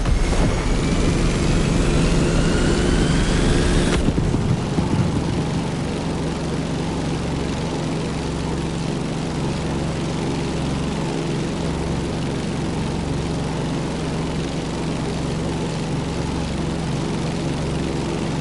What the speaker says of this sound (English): So we decided to go aerial, vintage, and bold with the Grumman Bearcat F8F.